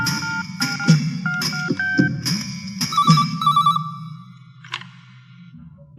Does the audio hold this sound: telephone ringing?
yes